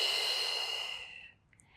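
A long, breathy exhale during a yoga stretch, close and soft, hissing steadily before fading out into near silence.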